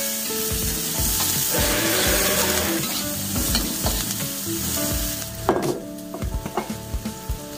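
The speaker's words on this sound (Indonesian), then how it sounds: "Kita tumis bersama sampai harum ya." Spring onion, garlic and chili are sautéed together in a hot pan. A steady, dense sizzle runs throughout, and near the end sharper scrapes and knocks of stirring break through. No one speaks.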